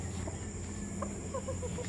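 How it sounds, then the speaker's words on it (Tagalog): A chicken kept in a backyard gives a few soft, short clucks close by, quiet against a low background hum, with no talking. "Ito yung ating nakuhang manok ngayon lang."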